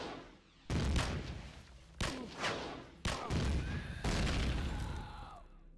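Turret firing in the video game Empyrion Galactic Survival: four heavy booming shots spaced about a second apart, each with a rumbling tail, the last one ringing out longer, close and loud.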